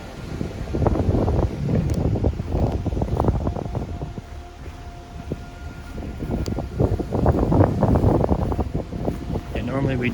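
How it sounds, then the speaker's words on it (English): Strong wind at an 18th-century cemetery in Maine buffets the microphone in loud, gusty rumbles throughout, with a brief lull in the middle before the gusts pick up again. "it's windy as fuck."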